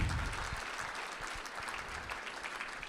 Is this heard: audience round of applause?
yes